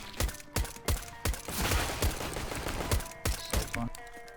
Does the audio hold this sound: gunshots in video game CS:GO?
yes